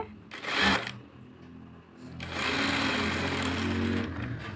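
A sewing machine stitches a blouse lining: one short run, a brief pause, then a longer steady run of close, rapid stitching.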